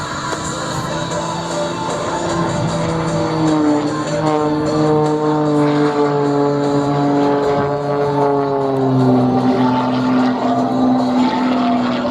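Aerobatic MXS-RH propeller airplane performing at a Marine Corps Air Station airshow, its engine drone loud and sustained with rising and falling pitch sweeps as it maneuvers, steady and close throughout.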